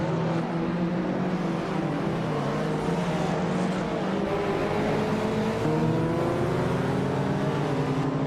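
Race car engines roar steadily in a video game race, several cars held at high revs together, loud and continuous with shifting engine pitches and no talk over them.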